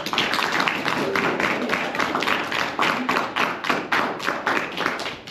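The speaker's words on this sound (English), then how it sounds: "Let's give her a round of applause, y'all." A dense, steady round of clapping from a group of students at a school talk in Indianapolis, continuous and fairly close, with no voices standing out.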